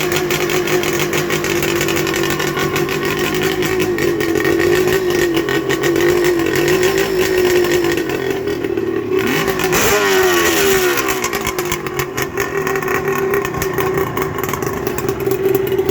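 A custom Suzuki GT750 motorcycle engine runs close by, idling roughly before revving up and dropping back, with rising and falling throttle sweeps around the middle and a steady loud engine note throughout.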